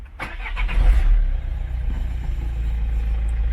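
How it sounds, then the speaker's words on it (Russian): A Citroën C4 car engine cranks for about a second, then catches and settles into a steady, low, rumbling idle. It is close and fairly loud, with no voices. "Ну что ж, заводим машину."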